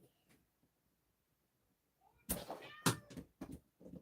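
A house cat meows a few times up close, short bright cries after a quiet stretch, with faint room noises earlier.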